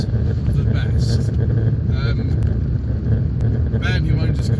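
A 1995 Fiat Cinquecento SX, a small 38-horsepower car with a notchy gearbox, driving on the road, heard as a steady cabin engine rumble and road noise with someone talking over it.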